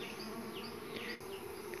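Uruçu boca de renda stingless bees buzz in a continuous, close, steady drone with faint rising and falling whines from individual bees, no talking.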